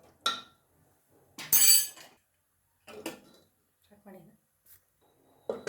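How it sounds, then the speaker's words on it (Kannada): A pressure cooker lid is closed on drumstick and tomato sambar in a home kitchen, with a few sharp metallic clinks and clatters separated by short pauses. "ಕುಕ್ಕರ್ ಲಿಡ್ಡನ್ನು ಕ್ಲೋಸ್ ಮಾಡಿ 2 ವಿಸಿಲನ್ನು ಕೂಗಿಸ್ಕೊಳ್ಳೋಣ"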